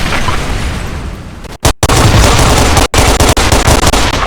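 Gunfire and grenade blasts from the online shooter game Special Force 2, a loud dense stream of rapid automatic shots with booming explosions, broken by brief dropouts partway through.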